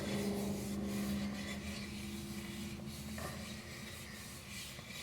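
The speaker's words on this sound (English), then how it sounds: "I usually start at the end, just to get some in there, and then rub it on." Vinegaroon, a rusty vinegar solution, rubbed by hand onto an axe to darken it, a soft continuous scrubbing rasp in steady strokes, close and quiet with a faint hum underneath.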